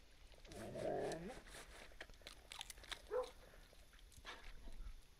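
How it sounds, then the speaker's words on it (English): Dogs barking in the Kingdom Two Crowns video game: a louder bark near the start and a shorter, fainter one a couple of seconds later, heard over a quiet ambient game backdrop. "the doggies barking left, so maybe that's where they're coming from"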